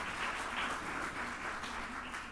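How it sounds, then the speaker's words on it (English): Audience applause at a mayoral candidate forum, a short, even burst of crowd clapping at moderate volume that continues without a break. "Give a round of applause to Richard"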